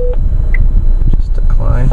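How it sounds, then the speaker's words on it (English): An incoming call rings on the car phone of a Chevrolet Cruze: short electronic tones at the start and end of the stretch, over steady low cabin and road rumble. "Oh, and I got a call. Yep, that's my car phone."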